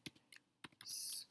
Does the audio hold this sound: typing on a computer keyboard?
yes